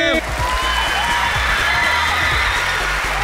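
An audience at an idol fan event welcomes a Japanese singer with dense, sustained applause. The clapping is close and loud and holds steady throughout, with a brief voice just at the start.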